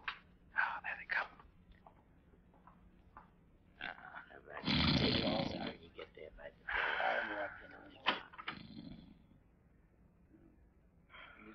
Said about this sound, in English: I can hear him snoring.